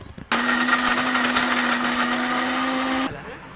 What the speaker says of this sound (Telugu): ఇవి మిక్సీ పట్టుకుందాం